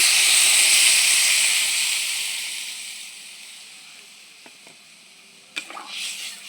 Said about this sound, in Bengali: এখন আমি কলায় জল দিয়ে দেবো